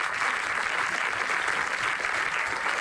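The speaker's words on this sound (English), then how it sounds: "Have a round of applause for Easter." Comedy club audience at the Punchline giving a round of applause, a dense, even burst of clapping from a crowd throughout, with no talk over it.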